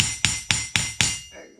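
Five evenly spaced metallic taps from a hammer on a 3/4 HP IHC air-cooled air compressor engine part ring out in a steady rhythm, each leaving a brief ringing decay.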